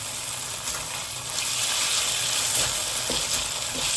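Pork frying over high heat hisses with a dense, steady sizzle that swells a little louder partway through, with faint clinks of stirring and no talking.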